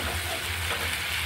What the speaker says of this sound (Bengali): এই যে দেখেন আমি আবার কষিয়ে নিচ্ছি, একটু সুন্দর করে কষাতে হবে ধৈর্য সহকারে